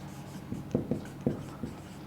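Quiet, irregular taps and short strokes from writing on a board, a handful of soft knocks spaced unevenly over a low steady room background.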